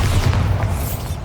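A Bombarda spell blast in Hogwarts Legacy, a loud, deep rumbling boom that rolls on steadily for over a second with no gap.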